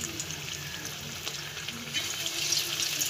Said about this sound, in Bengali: নিয়ে এই যে পেঁয়াজগুলো দিয়ে দিচ্ছি আস্তে আস্তে